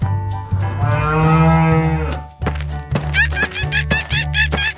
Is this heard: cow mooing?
yes